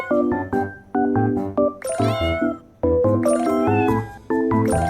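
Cats in a video game trailer meow repeatedly in bright, tonal calls, with chiming, tinkling music sounding along with them, loud and close throughout.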